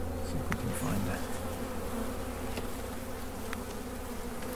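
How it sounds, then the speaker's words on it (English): Honeybees in an open bee colony make a steady, close, dense buzzing hum that carries on without a break, with a few faint knocks and scrapes over it. "It's all the bees just getting on with their business, I guess. Busy doing their jobs."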